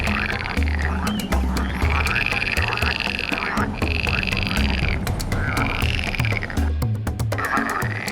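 Frogs croaking in a loud, dense chorus of rapid, rattling calls, pulsing in repeated bursts with overlapping voices, close and continuous throughout.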